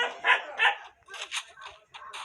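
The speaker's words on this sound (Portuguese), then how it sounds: "Deve estar ouvindo barulho de cachorro aí, mano, que eu tô na varanda de casa aqui" Dog barking near a house balcony, several sharp barks and yips in an irregular burst, fairly close and loud.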